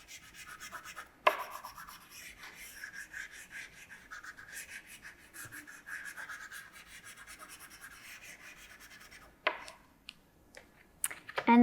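An oil pastel's longest edge rubs back and forth across paper, a soft, steady rasping scrape that runs almost continuously and quietly, broken by a few sharper taps near the end.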